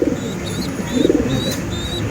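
Pigeons in a loft coo close by in soft, throaty bursts, one at the start and another near the middle, while a thin repeated high chirping from chicks or other birds runs through the background.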